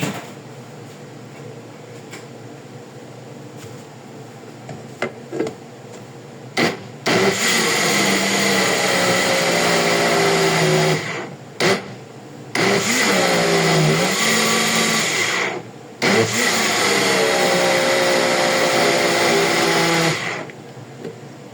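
A blender purees pesto sauce with olive oil in three long, loud motor runs, each starting abruptly and then cutting off, with short pauses and faint clatter between them.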